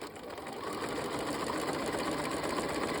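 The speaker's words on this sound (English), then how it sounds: "I'm going to get to my mark, back tack, and go back to my normal stitch length" Sewing machine stitching a seam on a zippered cushion back, including a back tack, a continuous close whirring hum running steadily without pauses and no talking.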